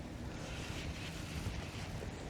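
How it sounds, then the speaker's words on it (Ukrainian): Steady wind roars and buffets the microphone outdoors on the Dnipro River, a continuous rushing noise with low rumbling gusts and no voices. "І хоч і заважає вітер"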